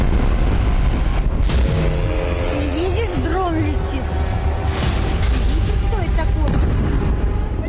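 Explosive drone strikes hitting Tel Aviv, heard as a loud continuous roar of booms and rumble with sharp blasts, mixed with shouting voices and a siren-like wail throughout.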